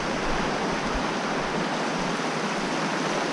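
A river flows near a forest trail, a dense continuous rushing wash of water that stays loud and steady throughout with no talking.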